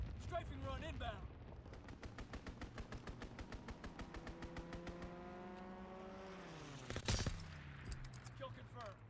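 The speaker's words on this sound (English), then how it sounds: "Strafing run inbound." A strafing run in Call of Duty: WWII: a rapid, steady stream of gunfire rattles for several seconds, with an engine roar passing overhead and falling in pitch, and a loud burst near the end.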